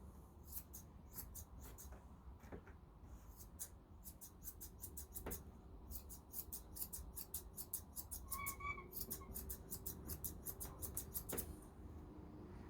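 Scissors trim a poodle's top knot in a long run of quick, close, faint metallic snips, alone against a quiet background.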